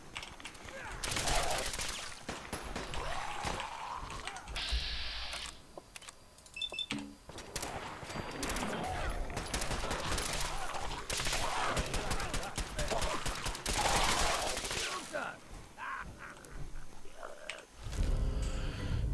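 Gunfire in Fallout 4 Far Harbor, with repeated bursts of close, loud shots, rapid volleys and single cracks between weapon clicks, and someone talking at intervals.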